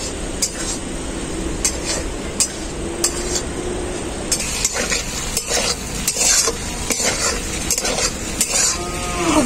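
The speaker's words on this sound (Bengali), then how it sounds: "এখন আমি দিয়ে দেবো ভেজে রাখা কচুটাকে দিয়ে মশলার সাথে খুব ভালো করে কষিয়ে নেব" Fried taro is stir-fried with masala for a prawn dish, giving a low sizzle under repeated sharp scrapes and clanks of a spatula against the pan.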